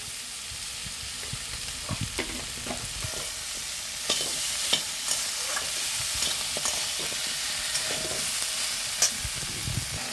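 Drumstick stalks with poppy seed and sugar frying in a pan, a continuous close sizzle broken by repeated scraping clinks of a spatula as the mix is stirred.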